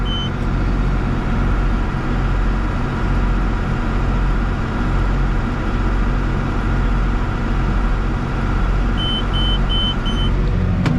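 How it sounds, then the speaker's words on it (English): A tractor engine revved to about 1800 RPM to run a hay baler, holding a steady, loud, low rumbling drone for around eleven seconds, with a faint short beeping near the end and no talk. "Rev her up. About 1800 RPMs."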